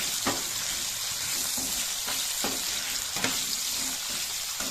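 Potatoes frying with salt in a pan give a steady sizzle, with a few brief stirring scrapes breaking through at intervals, close and without speech.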